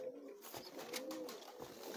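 Pigeons coo close by in low, rolling, repeated calls that carry on throughout, with faint noise behind them.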